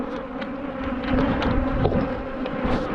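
A swarm of angry bees buzzes loudly and continuously close around the camera, a dense droning hum with individual insects flitting past.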